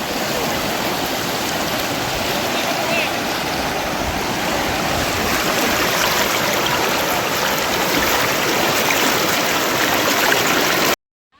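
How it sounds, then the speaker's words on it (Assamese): A stream of cold water flowing at the Daragaon picnic spot in Baksha, among hills, gives a loud, steady, unbroken rush that holds throughout and then cuts off abruptly at the very end. "দেখিবলৈ পাইছে এয়া হৈছে পানীৰ ধাৰ।"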